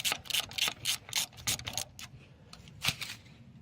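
Screws being loosened on the motor of an Invacare Pronto M91/M94 power wheelchair, a quick series of close, clicky ratcheting turns in short bursts, fairly quiet with no talk.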